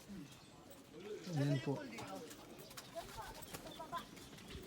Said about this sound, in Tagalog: ang dami pong mga kalapati rito